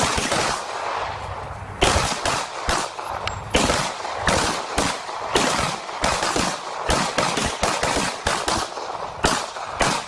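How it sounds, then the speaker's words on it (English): Gunfire at a shooting range: dense volleys of loud, sharp shots in rapid bursts, some overlapping like automatic fire, continuing steadily with brief gaps throughout. "We also went to a shooting range."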